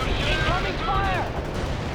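Incoming artillery fire in the video game World in Conflict makes a dense, loud rumble that runs steadily throughout, with a voice speaking briefly over it.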